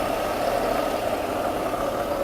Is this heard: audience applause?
no